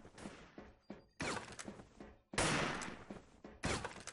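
Sniper gunfire in the online shooter Wolfteam comes as several sharp, loud shots with ringing tails, spaced about a second apart.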